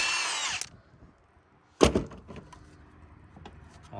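A power tool backs the last bolt out of a diesel engine during teardown. A short mechanical whir at the start is followed by a sharp clunk and quieter scattered handling noises nearby.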